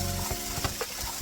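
Okra sautéing in a pan for a vegetarian okra dish, giving a steady close sizzle with a few soft stirring scrapes and clicks, no talking.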